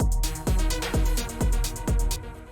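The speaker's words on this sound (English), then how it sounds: "Next thing we have here is this clap, which sounds like this." A crisp electronic techno clap sample hits repeatedly in a steady rhythm, layered over a thumping kick, about five even beats.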